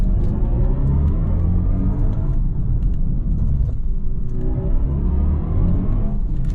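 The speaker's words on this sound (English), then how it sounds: "listen to the soundtrack this car makes when you accelerate and decelerate in Sports Boost mode" A smooth synthesized drive tone from a 2023 BMW i4 M50 electric car in Sport Boost mode rises and falls in pitch over a low rumble, swelling and easing as the car speeds up and slows.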